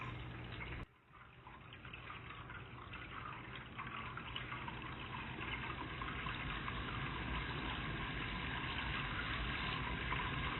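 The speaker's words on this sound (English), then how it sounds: "Like two little falls going downstream" Small waterfalls in a stream at a wildflower preserve give a steady, soft trickle and splash of running water, continuous and fairly quiet, with a brief knock near the start.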